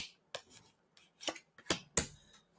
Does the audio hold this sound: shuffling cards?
yes